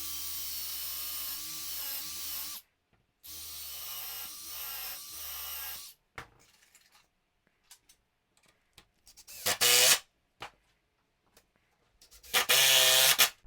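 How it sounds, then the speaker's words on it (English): A power drill bores a pilot hole, then drives a screw fastening a wooden stop block to the top layer of a homemade car ramp; two long whining drill runs, a pause with light handling, then two short bursts. "I'm just going to drill a pilot hole and screw this into my top layer"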